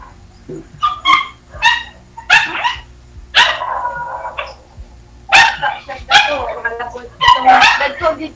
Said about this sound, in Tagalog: Maingay po yung aso, pasuyo.